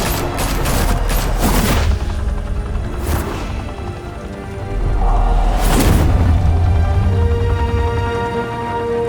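A volley of gunfire erupts in Batman: The Telltale Series, with a rattling cluster of shots, then scattered sharp cracks over a loud rumbling background, without speech.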